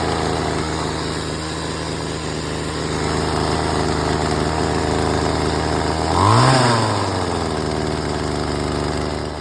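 Poulan Pro small engine running after a new carburetor was fitted, a close, steady high-pitched buzz with a single sharp rev-up and drop about two-thirds through before settling back to a constant idle.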